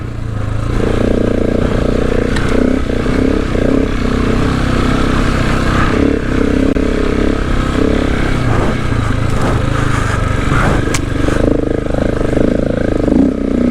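A motorcycle ridden on a rough off-road track in Cape York, its engine loud and close as it labors and revs continuously over bumpy ground, with a steady roar throughout.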